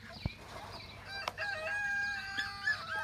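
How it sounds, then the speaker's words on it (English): A rooster crows in the morning outdoors, a drawn-out cock-a-doodle-doo at moderate distance. A couple of sharp knocks come just before it, and the call rises and holds for about two seconds over quiet background. "And there's my faithful rooster telling us it's morning."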